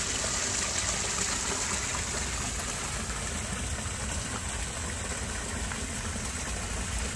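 Water splashes and gushes continuously as a pond waterfall pours, a close, steady, bright rushing sound with no speech over it.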